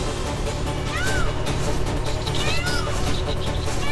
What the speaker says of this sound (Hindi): बिल्ली तो मैं ही पकड़ूंगा मयूर जी